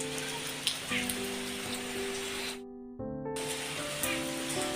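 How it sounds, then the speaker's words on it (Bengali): Steady rain patters down on a rooftop garden in a dense, even hiss, with faint tonal hums running underneath. The downpour sounds continuous and moderately loud, with one brief dropout midway. "বৃষ্টি হচ্ছে"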